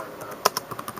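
A command gets typed on a computer keyboard, a quick run of close, crisp key clicks with one sharper tap standing out, all within about a second.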